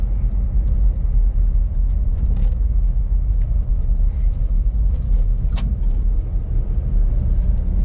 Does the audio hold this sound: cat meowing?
no